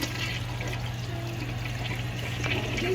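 A Kohler toilet with blue water flushes in a steady, moderately quiet rush of water that runs continuously for a few seconds with no clear start or stop.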